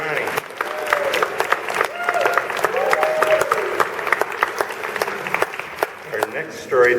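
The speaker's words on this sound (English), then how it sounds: "Let us give a nice hand, a round of applause and thanks for Ronnie from Joyful Noise, who is our sound man." An audience at a storytelling festival main stage claps for the sound man, a crowd applause of sharp, dense claps with some voices talking and calling out over it.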